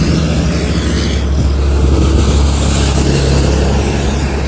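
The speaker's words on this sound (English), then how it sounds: "Here's 3 trucks for you" Three trucks rumble past, a loud steady low drone with a high whine rising midway, heard close without talk.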